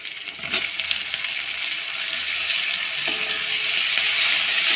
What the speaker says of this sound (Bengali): এবার আমি দিয়ে দিচ্ছি টমেটো কুচি।